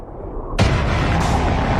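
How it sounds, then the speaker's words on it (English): The Tsar Bomba nuclear bomb explodes: an already rumbling low roar swells into a loud, sudden broadband blast about halfway in, then keeps thundering without letup. "A 1 megaton surface explosion will lift tons of soil up into the mushroom cloud"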